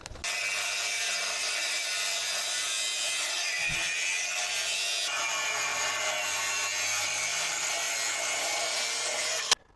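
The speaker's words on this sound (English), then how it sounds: "I'm gonna cut something, it might be your exhaust." A continuous harsh grinding rasp of a car exhaust pipe being cut runs loud and steady for several seconds, then stops abruptly.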